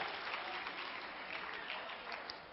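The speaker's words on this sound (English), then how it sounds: "Everybody give yourself a round of applause." Audience applause at a chiropractor's talk, a dense, even wash of many hands clapping together, moderately distant and steady throughout.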